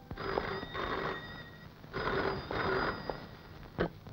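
A telephone rings in a Telugu movie scene, with two clear, loud ringing bursts of about a second each separated by pauses, alone in a quiet room.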